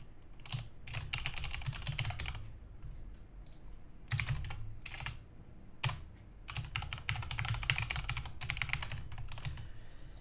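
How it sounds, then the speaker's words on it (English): Computer keyboard keys are typed in close, quick bursts of clicking separated by short pauses, clear and alone with no voices. "I'm just going to type in the information and then test out the software."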